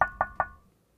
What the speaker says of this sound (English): Was that you knocking on the monitor?